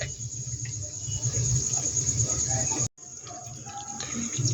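Pakoras fry slowly in a pan of oil, giving a steady fine sizzle and hiss close by with a brief dropout partway through, while a low murmur and occasional soft clinks sit underneath.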